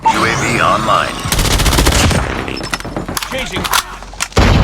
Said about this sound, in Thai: เนี่ยเราสาดกระสุนแบบนี้เราก็ ได้นับจำนวน กระสุนด้วยนะครับ